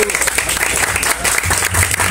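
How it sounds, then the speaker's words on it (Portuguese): Spectators at a street rap battle clap and cheer for a rapper, steady dense applause mixed with shouting throughout, fairly loud and close. "Quem gostou das rimas de Notas, barulho bom pro alto"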